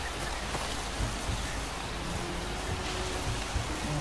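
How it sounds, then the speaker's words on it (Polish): Steady rain falls in the video game Far Cry 2, a dense, even hiss of drops with a few soft low thumps, heard alone without talk. "Widzę, że deszcz pada, kurczę."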